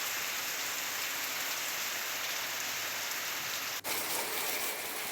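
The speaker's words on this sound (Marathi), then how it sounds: "डहाणू, पालघर, तलासरीसह काही भागात रिमझिम पावसानं हजेरी लावली।" Steady drizzle falling on surfaces in a coastal area of Maharashtra, a continuous even patter throughout, uninterrupted and without voices.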